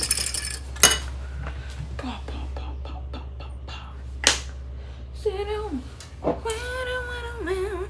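Cutlery stirs a mixture in a bowl in a home kitchen, producing faint, scattered scraping and clinking with a few sharper knocks, over a low steady hum, while voices talk and murmur nearby.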